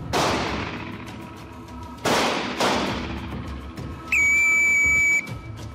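Police officers fire new service pistols at a training range, with three sharp, loud reports ringing out with echoing decay, followed by a bright steady electronic tone lasting about a second.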